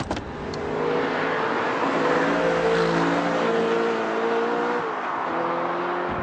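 Audi R8 mid-engine sports car on the move, its engine holding a loud, steady droning note that rises slightly then eases off, heard from close by with no talking.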